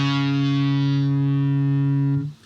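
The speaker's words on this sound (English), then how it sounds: "For this part, I like to momentarily turn on a distortion or overdrive," Electric guitar with a distortion or overdrive effect switched on for a part of a song, one loud sustained chord ringing for about two seconds before being cut off and dying away.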